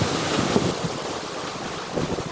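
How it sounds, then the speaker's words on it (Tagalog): Strong typhoon wind during a Signal No. 3 storm in Nueva Ecija, Philippines, roaring steadily and loudly with gusty buffeting against the microphone, no voices. "grabe hangin"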